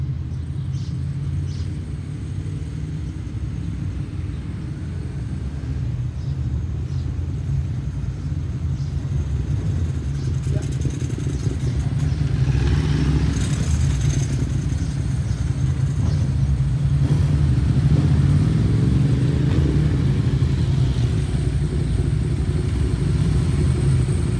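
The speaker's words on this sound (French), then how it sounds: "Il y a des Ducatis partout," Ducati motorcycles ride through a town, their engines a steady loud rumble that swells and passes over the whole stretch, with traffic and street noise around them.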